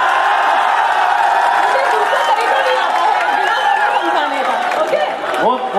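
A loud, dense crowd of college audience members at an engineering college in Bikaner cheers and applauds steadily throughout, with whoops and voices mixed into the constant roar.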